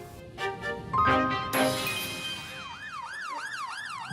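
An ambulance siren wails in a clear, continuous rising-and-falling sweep, loud and close, cutting in over a brief burst of other sounds before settling into a steady repeating cycle.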